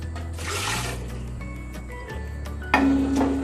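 Water is poured into a pot of beef karahi along with garlic paste and spices, giving a soft splashing, filling sound in two short bursts with some light clinks in between.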